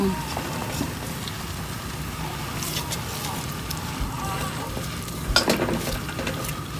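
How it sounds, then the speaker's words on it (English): Cream cheese sauce for shrimp alfredo being stirred in a pan, a steady soft scraping and gentle sizzle running throughout, with one brief louder clatter near the end. "just gonna keep stirring this and until the cream cheese dissolves"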